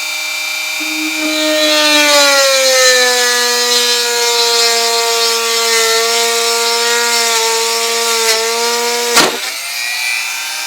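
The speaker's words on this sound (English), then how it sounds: "see how much pressure it takes to drill a hole" Work Zone rotary tool set to speed 3 drilling a hole in a wooden workbench: a loud, steady high whine held for about nine seconds, then a sharp crack as it cuts through and winds down.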